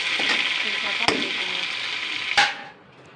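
Hilsa fish fat sizzles loudly in hot oil for a few seconds. A couple of sharp knocks break in before the frying cuts off abruptly into near silence.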